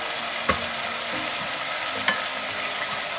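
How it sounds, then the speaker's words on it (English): Spices sizzle and fry in a pan for a Bengali dry fish curry while a spoon stirs them, a steady bright hiss broken by a few scraping knocks of the utensil. "I'm just going to give it a stir now, mix the spices."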